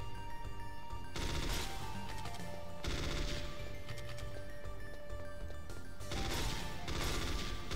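Gunfire in the Metal Gear Solid VR missions, shots ringing out in several loud bursts over a steady wash of game sound and music, with no talking.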